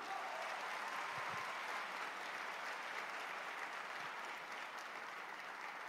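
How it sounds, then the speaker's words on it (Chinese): Sustained, even applause from the audience at the grand final of the national university debate competition in Malaysia, a dense wash of many clapping hands heard from a distance with no pause or swell. "我们给中马跟北马双雄两支劲旅再来一个热烈的掌声"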